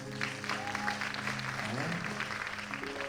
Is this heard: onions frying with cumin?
no